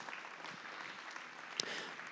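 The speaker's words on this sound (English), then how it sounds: "Let's give these kids a big round of applause and congratulations" Crowd applause at an FFA breeding gilt show at the Nebraska State Fair, heard as a faint, steady patter of many hands across an arena, with one sharper clap standing out near the end.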